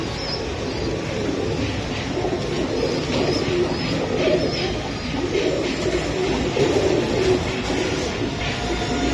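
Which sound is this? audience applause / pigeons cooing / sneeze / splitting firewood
pigeons cooing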